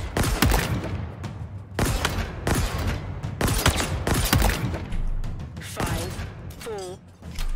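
Repeated Mangler pistol shots in the Halo Infinite multiplayer beta weapon drills, loud sharp bursts in an irregular rhythm with brief gaps, a rising whine near the end.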